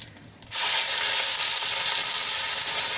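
Ginger, garlic and chili paste hits hot oil with cumin and a pinch of asafoetida, bursting into a loud, dense sizzle after a brief quiet moment, then holding steady and close with no voices.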